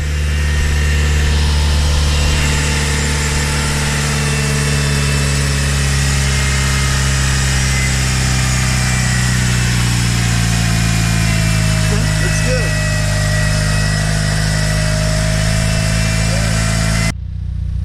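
Mitsubishi Evo engine fitted with a new intake, running loud and steady close by for the full length, with droning engine tone and shifting revs suggesting turbo spool, then cutting off abruptly near the end.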